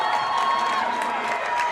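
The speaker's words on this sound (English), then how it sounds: "The crowd's starting to sense it a little bit." Crowd noise at a high school football game between Sterling and West Deptford, a steady wash of cheering and shouting from the stands, moderately loud and continuous.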